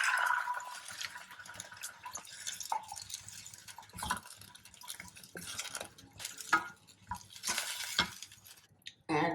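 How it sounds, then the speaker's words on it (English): A cup of water is poured into a tamarind mixture in a cooking pan, giving a sustained splash and gurgle followed by scraping, stirring and clinks of utensils against the pan. "I am adding about a cup of water."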